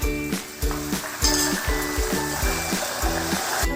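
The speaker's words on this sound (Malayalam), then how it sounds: "ഇനി നമുക്ക് കുറച്ച് ഉപ്പുവെള്ളം ഒഴിക്കാം." Salt water poured into hot oil where banana chips are frying, a loud steady rushing hiss and fizz of bubbling oil, close and continuous, with pulsing rises and falls throughout.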